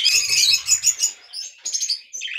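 Budgerigars chirp at feeding time, a dense, bright chatter of tweets and squeaks from a flock, loudest early on, then thinning into scattered calls close by.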